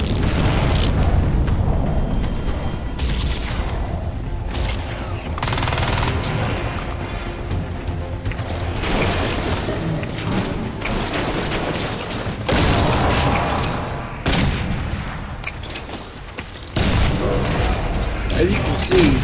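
Rapid gunfire and heavy booming explosions in the shooter Crysis 2 during a fight against an armored robotic enemy, loud and dense throughout, with a voice talking over the battle.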